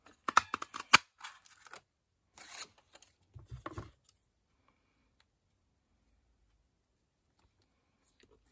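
A bow punch cuts a leaf shape from cardstock, giving a short run of crisp, close clicks and crunches over a few seconds before the room falls quiet.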